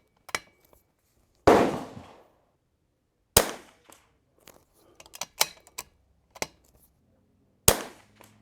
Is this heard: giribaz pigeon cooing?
no